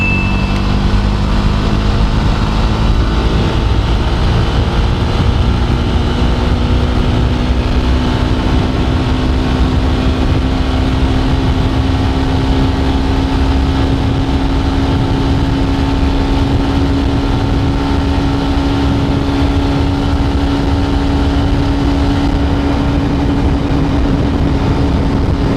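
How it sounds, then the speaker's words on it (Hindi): A Jawa 42 motorcycle engine drones loudly and continuously on a top-speed run, its pitch slowly climbing and holding steady under constant wind and road noise. "इस बाइक का टॉप स्पीड रन हम कंटिन्यू रखने वाले हैं।"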